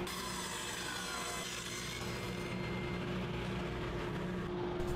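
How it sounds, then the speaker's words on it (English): A table saw with a crosscut sled trims a wooden bench top to final width, a steady loud motor whine with the blade's dense cutting noise running continuously and close throughout. "it was over to the table saw with the crosscut sled to cut the top down to its final width"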